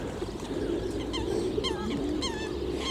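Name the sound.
geese honking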